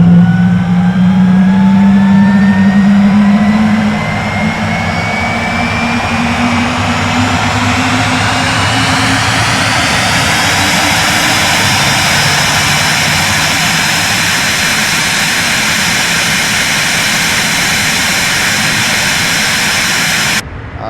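A Phenom 300E jet engine spooling up during a flight simulator engine start, its rising whine climbing steadily over several seconds, then settling into a loud, steady roar.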